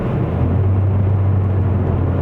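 A Ford Focus S+ with a 1.5L EcoBoost engine, just switched into Sport mode during a test drive in Malaysia, gives a steady, loud low engine drone from inside the cabin.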